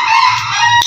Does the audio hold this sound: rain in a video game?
no